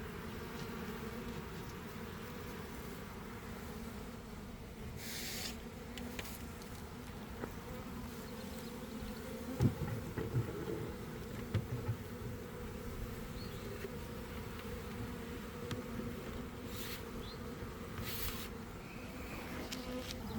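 A honey bee swarm produces a steady, low buzzing hum throughout, with occasional louder individual bees droning close past over the continuous drone outdoors.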